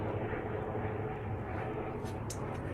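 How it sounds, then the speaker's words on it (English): An airplane flies overhead. Its steady, droning engine roar holds at an even level throughout, with faint scattered sounds in the background. "Airplane, you can hear it."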